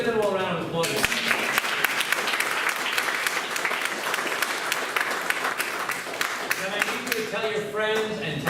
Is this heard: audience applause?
yes